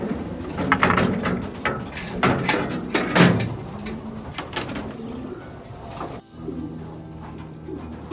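Racing pigeons back from a 731-kilometre race coo in a loft, soft repeated calls under scattered loft noise and rustling, with a brief door-like thud near the end.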